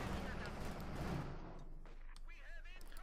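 Dense bursts of gunfire crackle through a Company of Heroes 2 battle, a rapid, overlapping volley that is strongest at the start and thins toward scattered shots, all fairly faint.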